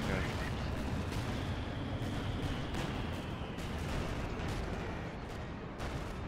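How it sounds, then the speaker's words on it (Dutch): Artillery bombardment in Company of Heroes 2, a dense continuous roar of booming impacts and gunfire at steady loudness, with voices talking over it. "Oh, bombardment hit ook."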